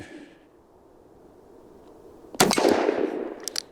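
A 7.5-inch Ruger Redhawk .44 Magnum revolver fires one loud, sharp shot outdoors after a quiet stretch, followed by a rough echoing tail and a few smaller clicks and knocks.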